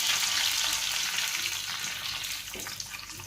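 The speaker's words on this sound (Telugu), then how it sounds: "కరివేపాకు కూడా వేసుకోవాలి." Cumin, mustard seeds, dried red chillies and curry leaves tempering in hot oil, a loud, dense sizzle heard close up that fades slightly over a few seconds, with no voices.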